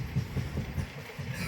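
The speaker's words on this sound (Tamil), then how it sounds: "இந்த ட்ரெயின் வந்து ஆதர் சூப்பர் ஃபாஸ்ட் ட்ரெயின்" Inside the Dadar–Tirunelveli superfast express, train 22629, a rhythmic wheel clatter repeats steadily over a continuous rumble of the moving coach, close and moderately loud.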